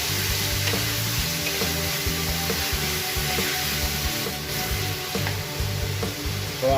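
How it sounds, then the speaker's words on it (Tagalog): Chicken and tomato sautéing in a pan for chicken sinigang, a steady loud sizzle and fry with a rhythmic stirring scrape running throughout, close up and with no talking. "Then sabay na natin ang ating tomato guys. Then finish lang tayo sa pagsusutay."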